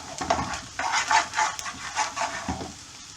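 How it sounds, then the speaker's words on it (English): Onions sizzle in a hot pan while a utensil stirs and scrapes them for a basic curry sauce. The frying hiss is close and steady, and the stirring strokes rise and fall throughout. "You don't want to burn the onions, so if you're worried, keep them moving."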